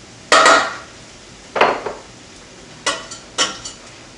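Butter, half a stick, going into a pan for macaroni and cheese: four separate clatters of utensil and pan contact at uneven intervals, close and crisp over a quiet room, with no voices.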